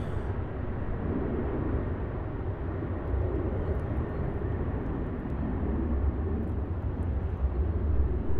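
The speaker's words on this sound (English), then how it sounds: "So there we have the Qantas 737-800 departing off runway 34 and using the full length of the runway." A Qantas Boeing 737-800 departing runway 34 at Melbourne Airport on a full-length takeoff, a steady broad jet roar heard from a distance that holds level and swells slightly toward the end, with no talk.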